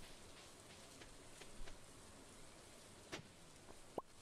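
Soft, steady in-game rain from Stardew Valley patters quietly throughout, with a few brief clicks and taps standing out near the end.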